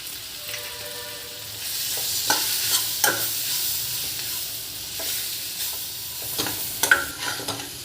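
Capsicum curry with salt, chilli, coriander powder and garam masala is stirred and fried in a pan. A spoon scrapes in irregular strokes over a steady sizzle, with a few sharper clinks.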